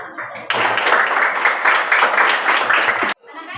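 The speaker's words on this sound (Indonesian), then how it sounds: "Ya, Bapak berikan aplaus." A classroom of children applauding together, a dense burst of hand claps lasting about two and a half seconds before stopping abruptly, with a teacher's voice heard briefly before and after.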